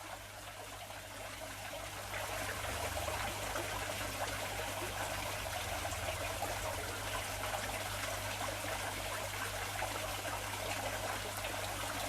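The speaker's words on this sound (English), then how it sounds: "there's a couple of little bits which I just want to wash out" Water sloshes and trickles steadily as fish eggs are washed out, much like gold panning. The close, continuous wash grows slightly louder after the first couple of seconds, with no talk.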